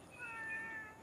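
A cat meows once on a rooftop garden after rain, a single drawn-out, fairly faint call with no talking over it.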